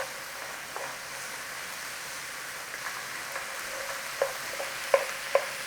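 Onions and mushrooms frying in a pan, a soft steady sizzle with occasional light stirring taps that grow sharper and more frequent toward the end.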